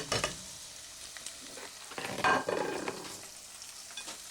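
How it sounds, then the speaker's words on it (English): Onions sizzle as they fry in a stew pan for beef and ale stew, with stirring scrapes and clatters breaking through, strongest about halfway through, near and moderately loud with no voice. "I'll just whirl them round a bit, sticking to the bottom of that pan"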